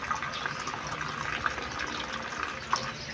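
Tap water runs steadily into a sink while lemongrass is washed, a close, even splashing flow with a few small clinks.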